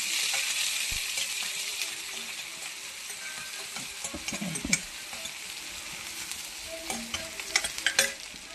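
Onion and urad dal sizzle steadily in oil in a pan for an Andhra-style okra stir-fry, with a spoon scraping and stirring intermittently over the constant frying hiss.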